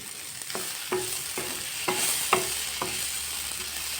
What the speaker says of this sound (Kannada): ತಾರಾಯಿ ಟೊಮೆಟೊ ನೀರುಳ್ಳಿ ಪೂರ ಮಸ್ತ್ ಫ್ರೈ ಆಂಡು